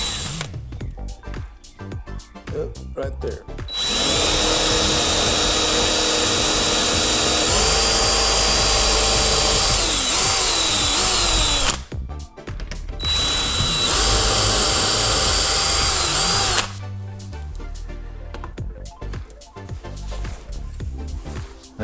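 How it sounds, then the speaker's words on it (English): Power drill boring holes for cabinet hardware, a loud steady whine in two long bursts separated by a short pause, with lighter tool handling and clicks before and after and a brief spoken remark. "Just come in here with your drill bit."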